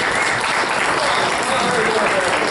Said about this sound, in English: Generous applause.